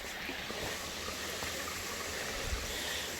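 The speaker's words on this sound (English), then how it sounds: "this is not a waterfall, but it's almost, it's like a mini cascade." A small mountain stream spilling down a mini cascade on a fall day, a constant close rushing and burbling of water with no pauses.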